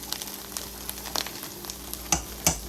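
Broccoli sizzling and stir-frying in a hot pan, a steady crackle with a few sharper pops and stirring scrapes.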